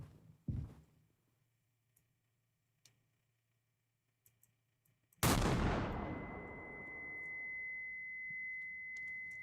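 A single loud gunshot in the horror game Mouthwashing bursts out after near silence and faint clicks, its sharp blast decaying into a lingering high ringing tone.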